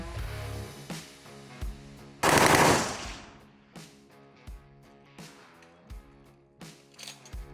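Bursts of PKM machine gun fire at a police firearms training exercise, a few short volleys and one long sustained burst, loud with ringing echoes between shots.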